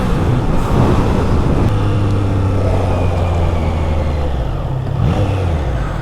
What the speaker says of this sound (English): it actually has that note of a inline 3 from Triumph that was there, the signature note, and it is very, very, very melodic.